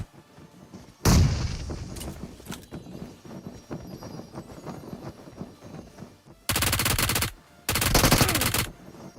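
In a battle royale video game, bursts of UMP submachine gun fire crack out: a sharp opening shot, scattered lighter pops, then two long, loud sustained bursts near the end.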